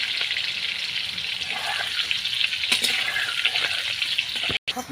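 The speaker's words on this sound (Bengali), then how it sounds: "এবার আলুগুলো আমি এর মধ্যে দিয়ে দিলাম, দিয়ে এই আলুগুলো ভেজে নিচ্ছি ভালো করে" Boiled potatoes fry in hot oil, giving a steady, bright, close sizzle with small pops, briefly cut off near the end.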